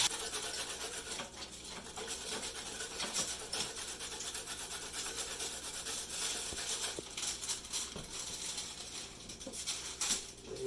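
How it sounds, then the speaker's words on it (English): Carrots are grated by hand in a steady, scratchy rasp that repeats continuously at close range, with faint kitchen clatter and no talking. "While he keeps grating"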